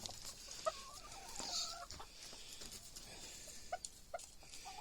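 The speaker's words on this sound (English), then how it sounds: "I got that darn old rooster." A rooster clucks and gives short crowing calls, fairly close, with scattered rustling and clatter around it and no talking.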